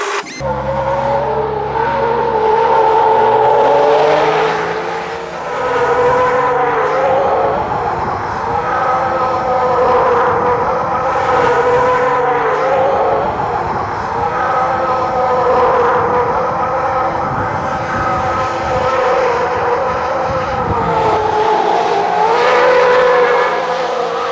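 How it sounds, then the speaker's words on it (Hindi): A car on a drive gives off a loud, steady engine drone from inside the cabin, with sustained rumble and shifting tonal hum throughout and no speech. "तो हम चलते हैं गाड़ी में बैठते हैं, ड्राइव लेते हैं"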